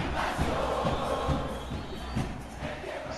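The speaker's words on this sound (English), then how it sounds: "Songs from the crowd here." Football supporters at Estadio Deportivo Cali during a Copa Libertadores match against Boca Juniors chant and sing as a dense, continuous roar filling the stadium, with rhythmic swells and drum-like thumps beneath the mass of voices.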